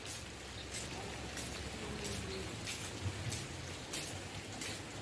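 Rain falls steadily outside, a soft continuous patter with faint periodic splashes and a distant bird cooing, no talk.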